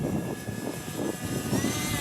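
A Reptile Harrier S1100 RC plane's electric motor drones steadily in flight, a moderate, non-screaming whine heard from a distance, fairly faint, with light wind noise and no speech.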